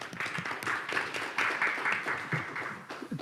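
Audience applause at a Korean economics conference welcoming a plenary speaker, a dense patter of many hands clapping at moderate volume in a large hall, with some brief taps toward the end.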